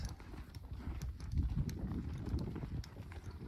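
Hooves of ranch and retired performance horses clip-clop steadily on a trail ride through Kodachrome Basin State Park, Utah, a continuous low rhythmic thudding of several animals close by, with no talk over it.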